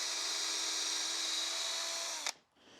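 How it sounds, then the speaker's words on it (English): A power drill whines at high speed, steady and close, as it bores a pilot hole through mitered wooden trim on a 10x12 shed, then spins down sharply once the bit breaks through. "drilling a pre-drill hole"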